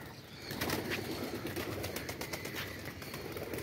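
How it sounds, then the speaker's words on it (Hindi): A flock of pigeons, a dozen or more released from a rooftop net enclosure, bursts into flight with a steady rush of flapping wings that stays loud and close throughout, with no voices over it. "ये दोस्तों कबूतर खैर उड़ गए हैं, ये देखें खिलर खिलर के उड़ रहे हैं।"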